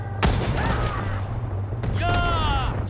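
Sniper rifle fired from the hip in the Vietnam War game Rising Storm 2: two sharp, loud gunshot cracks about a second and a half apart, each followed by a short ringing tail, over constant game ambience with voices.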